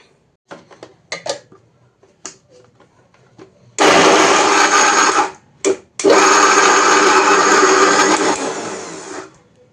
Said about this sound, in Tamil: இந்த கொண்டக்கடலை இருக்குல்ல இதை வந்து மிக்சியில் வந்து கொஞ்சம் குறகுறப்பாக அரைச்சி